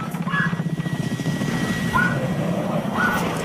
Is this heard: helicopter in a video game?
yes